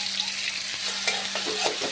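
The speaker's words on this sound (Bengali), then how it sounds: "এবার আমি দিয়ে দেবো আদা বাটা।" Ginger paste hits a pan of frying spices and chopped tomatoes for a rohu fish curry, giving a close, steady sizzle broken by scraping stirring strokes.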